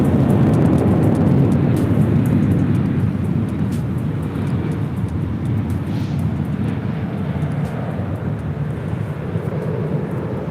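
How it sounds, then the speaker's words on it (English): Philippine Airlines Boeing 777-300ER arriving at LAX from Manila, a broad jet engine rumble that is loudest at the start and eases slightly, heard alone without voices. "this next arrival is Philippine Airlines Flight 112 coming in from Manila. That is a 777-300ER"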